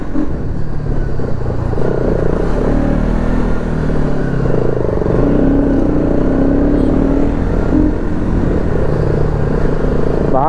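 Bajaj Pulsar NS200 motorcycle with a stock engine, revving loudly and close by in repeated rising and falling bursts, its rumbling exhaust note continuous throughout with no talking.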